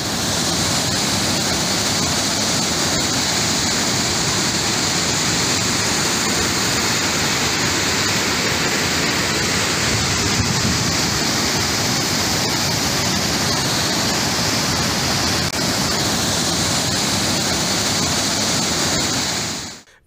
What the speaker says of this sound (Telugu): మలక్పేటలో కూడా బ్రిడ్జిని తాకుతూ నీళ్లు కిందకు ప్రవహిస్తున్నాయి